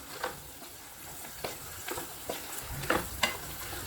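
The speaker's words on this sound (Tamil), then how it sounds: "இப்போ நம்ம ஆல்ரெடி வேக வச்சுருந்த பச்சை பட்டாணி வந்து இதில் ஆட் பண்ணிக்கலாம்" A spoon scrapes and stirs boiled green peas into a sizzling tomato masala, with several distinct scraping strokes over a steady frying hiss.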